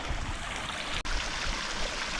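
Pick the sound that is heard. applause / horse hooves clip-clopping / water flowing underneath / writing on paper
water flowing underneath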